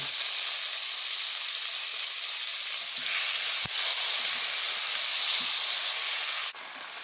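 Garlic, onion, tomato and green chili sautéing in a pan for sarciadong galunggong, a loud steady hissing sizzle held close throughout, with a few faint clicks and a sudden drop near the end.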